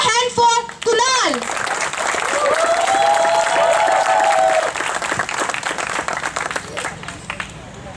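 An audience at a public performance applauds a young performer with sustained, dense clapping. A voice and other voices call out over it early on, and the applause fades toward the end.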